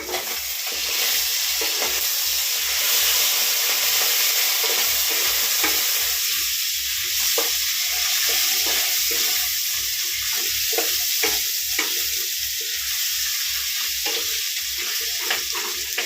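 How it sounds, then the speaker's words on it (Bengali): Fish fat frying in a pan sizzles steadily and close, with repeated rhythmic scraping of stirring throughout. "সেই মাছের তেলটা একটু ভেজে নিলাম"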